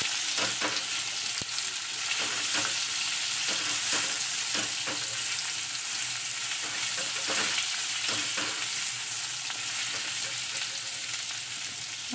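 Raw mango pieces stirred and sautéed in a mustard-seed tempering, giving a steady close sizzle with scraping spoon strokes throughout, no voices.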